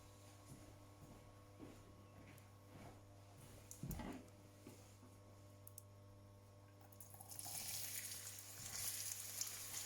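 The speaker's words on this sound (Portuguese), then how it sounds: "Este é o som que devem ouvir da reação do azeite quente com a cebola à temperatura ambiente." Hot olive oil crackles and sizzles around room-temperature onion in a pan, a quiet steady frying with a few bumps and stirs, the sizzle swelling louder near the end.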